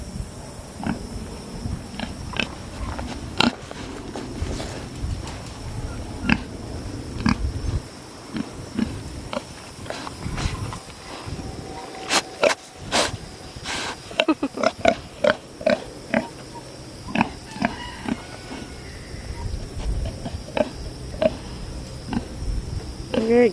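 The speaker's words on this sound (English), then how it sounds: "What's up, pig?" A pig grunts and snuffles close by in a hot Texas setting, with irregular short snorts and sniffs scattered over a steady background hum, and occasional faint voices.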